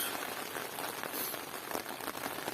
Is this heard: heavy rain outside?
yes